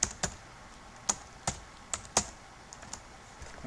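Keystrokes on a computer keyboard while an email address is entered during a WordPress installation, a sparse run of separate clicks with irregular gaps, close and fairly quiet, with no talking.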